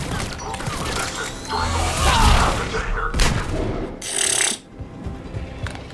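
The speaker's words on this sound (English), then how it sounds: "Shepard, Cerberus troops at checkpoint. Attempting to kill Krogan. Need assistance. See the checkpoint! They're under fire" Gunfire and explosions in the Mass Effect video game during a firefight at a Cerberus checkpoint on Surkesh, with bursts of shots, a sharp boom and mechanical clatter mixed under game voices and ambience.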